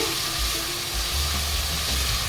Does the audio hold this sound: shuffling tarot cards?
no